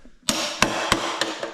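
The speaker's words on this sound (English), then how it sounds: "I might need a bigger hammer." Sharp metallic hammer blows on parts of a 1956 Chevy with a small-block engine, five distinct close strikes spaced roughly a third of a second apart, each ringing briefly in a quiet workshop.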